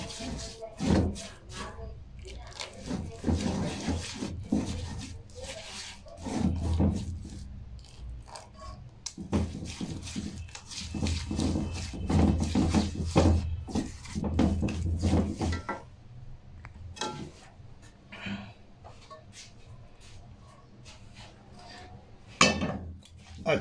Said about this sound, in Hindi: अब इस चम्मच को हम चलाते जाएंगे जी